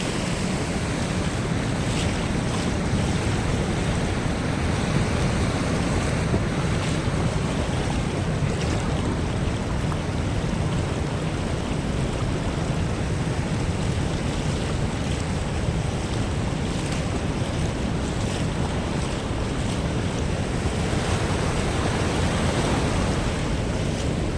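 Forceful sea water rushes and churns into white foam on the Konkan coast at Goregaon, Raigad, a steady loud roar of surf with wind buffeting the microphone and no talking.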